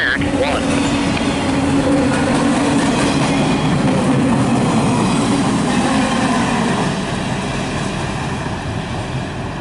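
A CSX Q193 intermodal freight train rolls past close by, a loud continuous rumble of wheels on rail with clickety-clack and faint squeals throughout, fading slightly toward the end.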